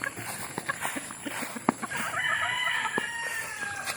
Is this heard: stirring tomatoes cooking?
no